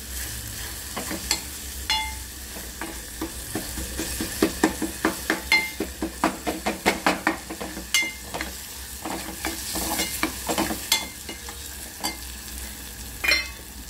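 Spice masala roasting in a hot pan for an aloo chicken dish, stirred vigorously: a bed of sizzling under a rapid run of sharp scraping and tapping strokes against the pan, close and fairly loud.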